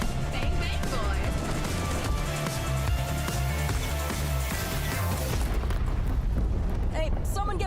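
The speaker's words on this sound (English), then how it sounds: "Incoming airstrike!" Heavy booming explosions from an airstrike in a sci-fi shooter video game roll on continuously, loud and dense, with deep rumbling blasts layered over battle noise.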